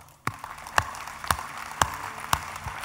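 A lone person claps slowly in a church sermon setting, about six separate sharp claps spaced roughly half a second apart, fairly quiet against a hushed room.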